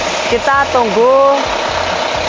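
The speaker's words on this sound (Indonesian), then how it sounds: "Setelah mesin screw kompresor ini hidup" A PDS 175 screw compressor engine runs with a steady, loud mechanical drone, while someone speaks over it close to the microphone.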